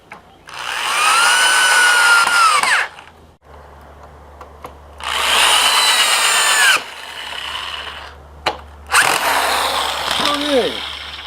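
Power drill driving screws into wood while building a landscaping square, three loud high-pitched whirring bursts of a few seconds each, with short pauses and a low hum between them.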